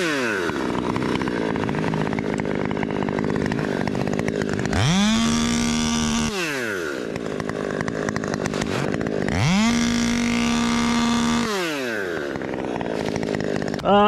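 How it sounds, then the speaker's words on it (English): A top-handle chainsaw cuts into a tree, running at a loud steady roar that twice drops back to a lower idle and revs up again, close and dominant. "shocked at how fast the saw cuts"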